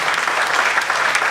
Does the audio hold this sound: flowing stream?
no